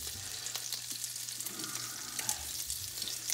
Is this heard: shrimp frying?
yes